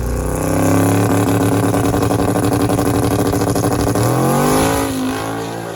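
A twin-turbo Chevy Nova launches down a drag strip on a short test pass, its engine roaring loud and close, rising in pitch through a single hard pull before easing off near the end.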